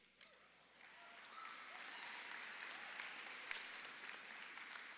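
Audience at the Allendale graduation commencement ceremony breaks into sustained applause, many hands clapping in a dense, steady wash that swells after a brief opening clap and holds at a moderate distance.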